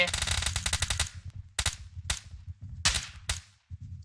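A rapid burst of automatic gunfire in PUBG Mobile on the Sanhok map, then several sharp single shots spaced apart, loud and close, with voices talking in between.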